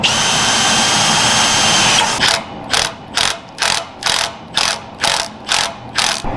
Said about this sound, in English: So drilling and tapping is the easiest way I know how.